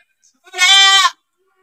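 A single goat bleats once in a goat pen, a loud, close, drawn-out wavering cry lasting about half a second against otherwise quiet surroundings.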